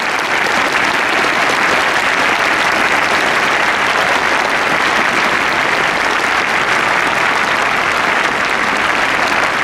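A large crowd at the Japan Cup Day retirement ceremony for the racehorse Contrail applauds loudly and continuously, a dense, sustained roar of clapping that holds steady throughout.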